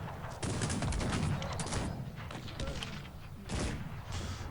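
Booming cannon volleys in the game Cossacks 3, dense rolling blasts that come in waves, loud and continuous with a fresh burst near the end.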